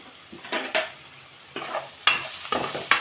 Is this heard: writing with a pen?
no